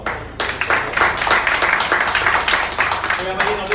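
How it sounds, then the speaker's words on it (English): A crowd gives a round of applause after a talk about historical knights, steady dense clapping lasting several seconds with voices mixed in. "Let's give her another round of applause."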